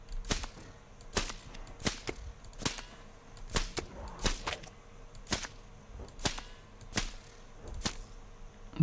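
Gunshots in the Metro Exodus video game: about a dozen crisp, snapping cracks spaced out at a steady, unhurried pace over quiet background hum.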